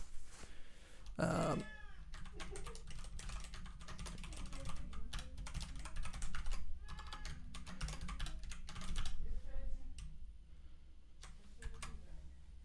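Rapid, uneven clatter of a computer keyboard while someone codes in Rust, keystrokes close and continuous with brief pauses between runs.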